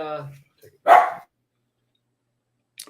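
Dogs, including a pug, give one loud bark burst close by, preceded by a brief voice and followed by silence.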